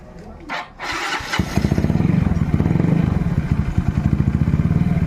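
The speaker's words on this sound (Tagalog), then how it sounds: "Tapos sindin mo yung makina niya." A Yamaha Mio scooter engine cranks and catches, then settles into a steady, rapid idle putter, loud and close, with brief clatter at the start.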